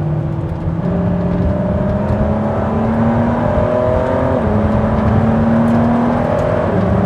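Ford GT engine in track mode on the Road America race track, a loud steady whirring drone with rising and falling pitch from inside the car, no talking.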